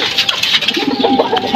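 Pigeon cooing at close range during breeding preparation, a continuous soft, throaty rolling coo filling the short moment with no talking.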